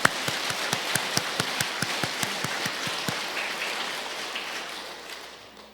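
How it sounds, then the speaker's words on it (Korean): Congregation applause during a Sunday church worship service, a rhythmic run of sharp, evenly spaced claps over a crowd's clapping that gradually fades to near silence. "우리 주님에게 우리 감사와 영광의 박수를 한번 올려드리겠습니다"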